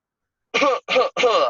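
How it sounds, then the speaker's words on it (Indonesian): Someone gives three short, close coughs in quick succession into the inner elbow, muffled, evenly spaced bursts following a moment of silence. "etika batuk yang benar adalah menggunakan siku dalam"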